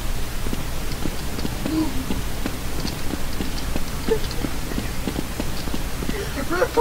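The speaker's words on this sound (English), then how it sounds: "I was listening to your footsteps." Rapid, rhythmic footsteps from the Counter-Strike Nexon: Zombies video game patter steadily throughout, with faint voices in the background.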